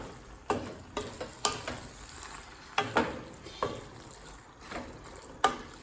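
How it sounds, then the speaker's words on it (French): Scrambled tofu sizzling in a pan while being stirred, with irregular scraping and clacking strokes every second or so over a steady quiet fry. "Alors, je vais bien mélanger tout ça."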